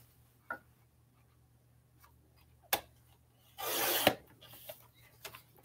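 A sheet of paper being cut in half, heard as a dense rasping, scraping burst of about half a second, set between a few faint ticks and rustles in a quiet room.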